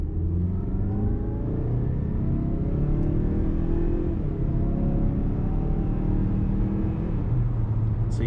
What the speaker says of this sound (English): You've got that really aggressive sound with the engine.